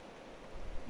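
Steady rainfall in The Bard's Tale, a dense even hiss that swells slightly toward the end, heard alone in a brief moment.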